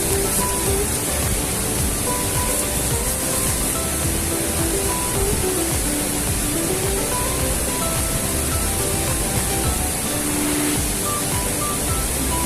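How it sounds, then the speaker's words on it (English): A waterfall in Slovenia roars as a steady, dense wash of falling water, loud and close, unbroken for the whole stretch with no voices over it. "the waterfalls over there. See? Nice."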